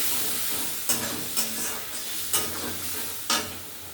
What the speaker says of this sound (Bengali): একটু জল দিয়ে এটা কষে নিচ্ছি।